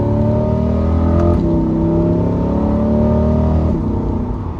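C8 Corvette with a dual-clutch transmission accelerating onto a highway, its engine note climbing loud and close with a quick upshift partway through and another near the end, no talk over it.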